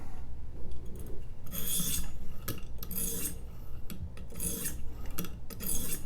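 A knife blade rasps back and forth across a 600-grit whetstone to remove the burr, close and steady, with repeated scraping strokes in a regular rhythm and no talking.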